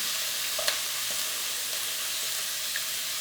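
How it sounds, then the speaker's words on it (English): Celery and onion sautéing in fat in a pan for a paleo herb stuffing, giving a steady, even sizzle with one sharp utensil tick early on and a faint clink near the end. "First we want to cook our celery and our onion."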